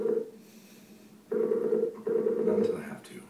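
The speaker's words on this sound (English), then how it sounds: "I'm going to turn it up, and you'll hear the ringing in the background." A Skype video call ringtone playing through a Vizio TV, repeating tonal bursts in a pulsed pattern with gaps between, moderately loud in a quiet room.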